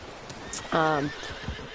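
A Norfolk pony in a PS4 video game gives one short, clear whinny near the middle, framed by a few soft hoof clops.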